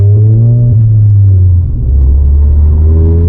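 A 500 BHP VW Golf GTI running low boost, its engine droning loud and deep from inside the car as it pulls hard, dips briefly at a gear change, then climbs again.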